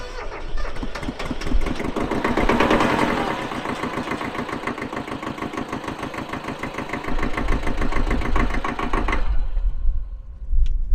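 A tractor diesel engine, freshly fitted with new piston rings, cranks and catches after glow-plug preheating, then settles into a loud, close, steady rhythmic knocking idle before cutting off near the end.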